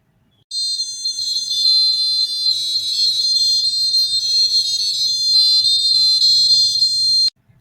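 A humanoid robot plays the Merry Christmas tune as a high, buzzy electronic melody, loud and steady for about seven seconds with brief pauses between phrases, heard alone without talk.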